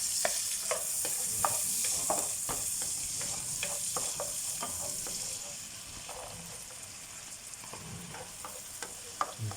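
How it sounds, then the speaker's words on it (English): Chicken and mushrooms sauté in a pan with a steady broad sizzle, punctuated by repeated spoon scrapes and stirring taps throughout, close and fairly quiet. "sauteing the chicken on the other side"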